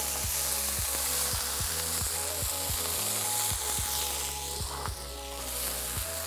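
Smashed burger patties topped with bacon sizzle loudly on a hot griddle, a dense continuous hiss punctuated by regular sharp scraping taps of a spatula, with no voices.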